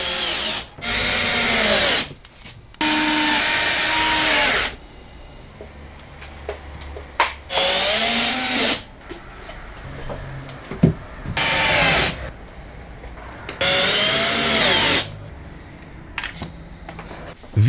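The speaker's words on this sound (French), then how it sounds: "Visse aussi les plaques sur la face avant." A power drill drives screws into roof insulation panels in six separate whirring bursts of one to two seconds each. Each burst rises and falls in pitch, and quieter handling noise fills the gaps.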